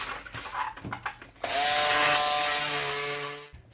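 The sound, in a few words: cutting out fabric for a Christmas stocking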